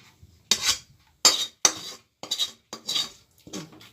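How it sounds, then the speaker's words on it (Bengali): Cooked chana dal is tipped from a pan onto a metal plate, heard as five or six short, sharp bursts of spoon scraping and clinking against metalware, separated by brief quiet gaps and with no talking. "ঢেলে দিচ্ছি, আমি থালার মধ্যে ঢেলে দিলাম।"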